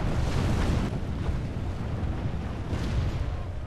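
Mortar fire and explosions rumble through a Medieval 2 Call of Warhammer battle with The Empire, a dense, continuous roar of booms and bursts with no distinct pauses, loud and steady throughout.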